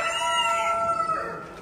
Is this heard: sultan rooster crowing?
yes